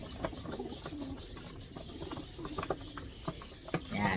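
Rock dove pigeons at a breeding cage give soft, low cooing calls amid light rustling and scattered taps, fairly close but quiet against a steady background hiss.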